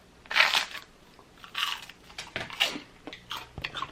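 A cheese snack is crunched and chewed close to the mouth in a series of sharp, crackly bites with quiet gaps between them, without talk.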